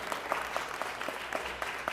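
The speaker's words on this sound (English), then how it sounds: "I think they all deserve a huge round of applause," Applause from the public gallery at a Los Angeles city council meeting, a steady patter of clapping from a modest crowd that carries on evenly at a moderate distance with no talking over it.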